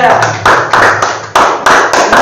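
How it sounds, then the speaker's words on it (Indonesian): Fifth-grade classroom clapping for a student group, short loud bursts of claps in a quick rhythmic pattern, close and punchy, with no talk. "Ya, tepuk tangan buat kelompok 2."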